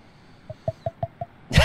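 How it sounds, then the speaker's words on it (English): Five light, hollow knocks land in a quick even rhythm, close and fairly soft, followed by a burst of rustling. "just open your mouth and just knock on the top of your head"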